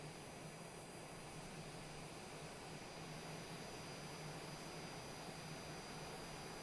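An airliner in Microsoft Flight Simulator approaches Haneda International Airport to land on the island runway, its jet engines holding a steady, constant roar with a thin high whine over it and no pauses.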